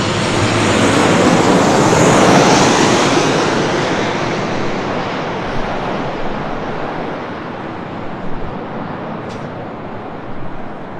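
Airplane taking off, a loud, close roar of jet engines that swells over the first few seconds and then slowly fades as the aircraft pulls away.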